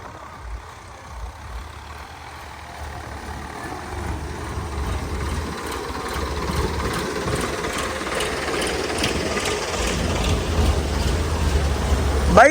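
A scooter engine hums steadily while riding through flood-hit Punjab villages after an embankment breach, a continuous low mechanical rumble with rattling that grows gradually louder over the ride.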